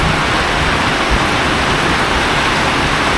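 Floodwater from a flash flood after heavy rain over clay ground rushes in a loud, continuous broadband roar, steady and close with no pauses.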